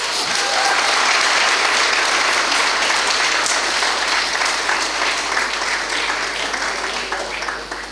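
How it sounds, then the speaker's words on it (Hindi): An audience at a mind and stress management talk breaks into steady, dense applause that runs loud and even, then tapers slightly toward the end, with no voices over it. "तालियां बजाइए।"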